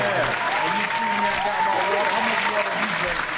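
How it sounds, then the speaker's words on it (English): Audience clapping at a live comedy show, a steady dense wash of applause that fills the whole moment, with voices and a few shouts mixed in over it. "Clap it up, clap it up, clap it up, clap it up."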